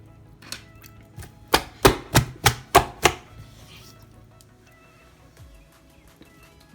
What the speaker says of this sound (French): nous avons fini de pétrir notre pâte de beignet